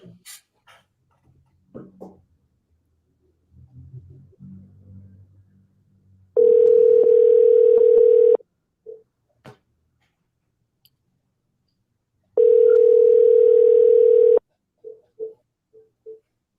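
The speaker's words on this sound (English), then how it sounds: "So let's give this caller a ring." On a radio show, a phone line rings out to a caller with two long, steady ringback tones separated by a pause, with faint clicks and brief blips around them.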